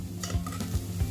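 Carrots sizzle in ghee in a pan as a spoon stirs them, with soft scraping strokes over a gentle, close frying hiss.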